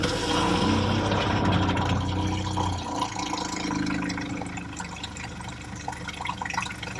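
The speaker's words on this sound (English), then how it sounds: "So we'll turn the pump on, get that out of there, and then we'll flush the antifreeze in." A camper van's water pump empties the water tank during winterizing, making a steady, loud rushing and gurgling with trickling water, close by and continuous, with no talking.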